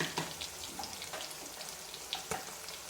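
Chicken liver sizzling and frying in a pan, a steady close hiss with scattered crackles and occasional scraping stirs, no voices.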